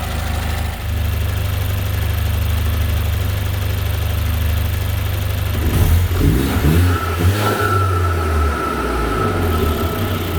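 A Mercedes-Benz AMG 2.0L four-cylinder with 600+ hp idles as it warms up after start-up, a loud steady low rumble close by with a slight rise in revs partway through.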